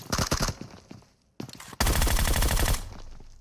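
Gunfire in the battle royale game PUBG Mobile: a loud burst of rapid automatic shots, a brief lull with a single short burst, then a long sustained volley of close fire, with no speech.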